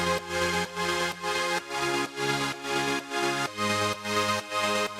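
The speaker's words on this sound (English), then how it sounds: "Now for the synth chords I just grab a presets for Synth 1 Inspire from my Galaxy sample pack." Lush Synth 1 progressive house chords are chopped by a Gross Beat gate and pumped by sidechain ducking. They swell and dip in a steady rhythmic pattern with changing chord roots. The chords are moderately loud and there is no talking.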